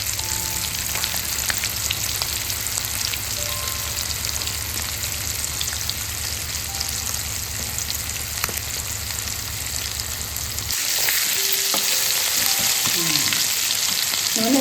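Chicken leg pieces frying in oil, a loud continuous crackling sizzle that runs steadily and then brightens into a harsher hiss near the end, with faint clinks, no voices.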